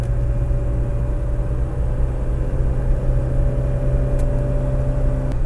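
Steady low engine drone and road rumble from inside a moving BMW E30, with a constant tonal hum and no voices over it.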